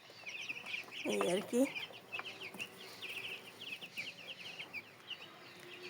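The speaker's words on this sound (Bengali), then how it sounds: "ব্রয়লার মুরগির খামার।" Broiler chickens on a small farm cluck and chirp in soft, scattered bursts throughout, with a short burst of brief talk early on.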